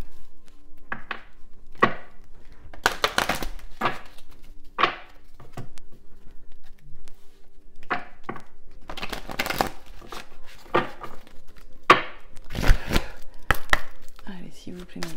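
A deck of cards is shuffled for a card reading, giving bursts of riffling and slapping that come in irregular clusters. The shuffling is close and fairly loud, with short pauses between rounds and no talk.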